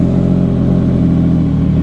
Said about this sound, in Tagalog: Start na natin yung motor.